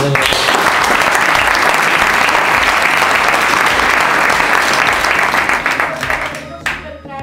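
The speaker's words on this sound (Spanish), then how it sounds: "Un aplauso a ese" Loud, dense applause from a studio audience fills nearly the whole stretch without a break, then thins and fades out near the end.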